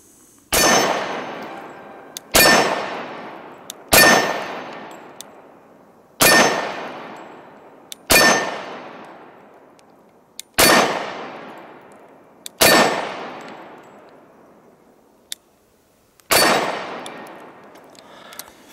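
A Sig Sauer Emperor Scorpion 1911 pistol fires eight loud, sharp shots one after another at an irregular pace, each crack dying away in a short ringing echo.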